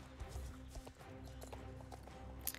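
Horse hooves clip-clop steadily in the Star Stable video game, a quick even rhythm of close, moderately loud steps heard alone with no talking.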